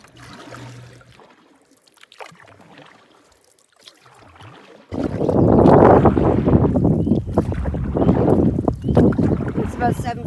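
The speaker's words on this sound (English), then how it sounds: "It's very windy." Strong wind sweeps over a river during a wilderness canoe trip in Temagami, first as light gusts, then a loud, sustained roaring buffet against the microphone for the second half.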